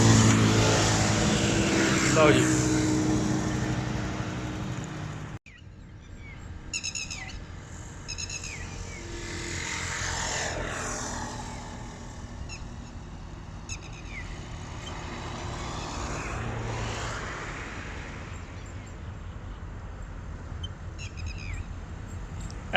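A container train pulled by two Pakistan Railways diesel locomotives rolls by at Kot Radha Kishan, a loud engine roar with horn-like tones early on, then a steady rumble of passing cars while people talk nearby.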